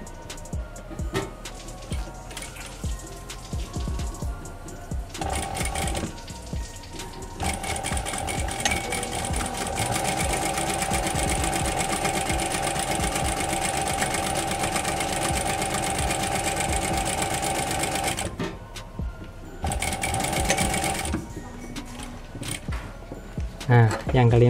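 An electric sewing machine stitches a test seam after its upper thread tension is tightened, a loud close whirring chatter that runs steadily for about ten seconds and comes in shorter bursts around it, with talk before and after.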